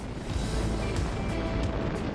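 Nine-cylinder radial engine of a Boeing Stearman biplane, about 300 horsepower, running steadily with a loud, dense, continuous rumble and roar and no voices.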